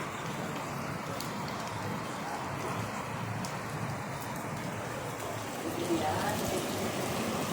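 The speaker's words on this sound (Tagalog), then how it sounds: "Papakita ko sa inyo yung bagsak ng yelo." Hailstones and rain fall during a storm in Muhayil, Asir, Saudi Arabia, making a steady, dense patter on surfaces nearby. The pelting stays even and moderately loud throughout.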